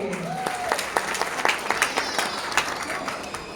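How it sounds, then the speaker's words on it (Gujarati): Audience applause at a gathering, a burst of many hands clapping with sharp irregular claps near and moderately loud, overlapping a speaking voice and a brief sliding tone early on. "એટલે આપણે આ માટે તાળીઓ વધાવી લઈએ"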